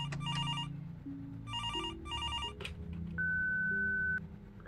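A telephone rings in a horror video game, with several bursts of electronic trilling over low droning tones, followed by a steady higher beep.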